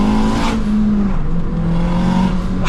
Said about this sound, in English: Do a second gear pull.